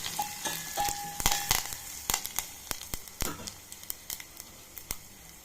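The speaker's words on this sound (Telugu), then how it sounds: "తర్వాత మిరియాలు తెల్లగడ్డ జీలకర్ర కొట్టింది వేసుకొని ఎక్కువసేపు వేయించుకోవాలి" Crushed black pepper, garlic and cumin fry in hot oil, crackling and popping in sharp irregular bursts close by, over a low background sizzle.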